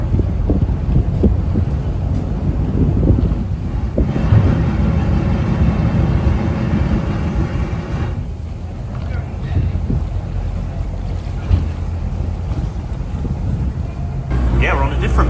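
A passenger ferry pulls into the harbour at St. Mawes, its steady low engine rumble mixed with heavy wind buffeting the microphone and the wash of water, with faint voices in the background.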